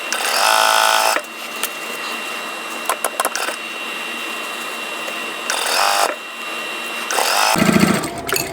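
A sewing machine stitches quilt rows together in steady loud bursts, pausing briefly between runs with small clicks, alone without talk.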